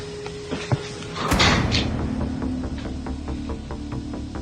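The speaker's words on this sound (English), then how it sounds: "the sound of a door opening and closing by itself" An apartment door creaks and thuds once, loud and near, followed by a steady low hum and faint repeated ticking, with no voices.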